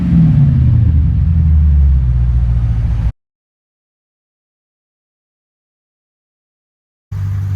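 A Lexus IS F with its mufflers removed rumbles loudly up close for about three seconds with a deep, steady engine drone, then cuts to silence before the roar returns briefly at the end.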